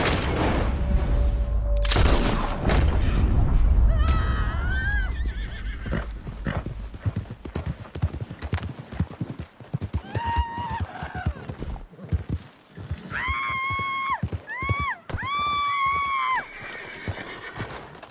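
In the Red Dead Redemption 2 video game, a horse clip-clops along with loud thumps and bursts early on, then lets out several clear, high whinnies close by near the end.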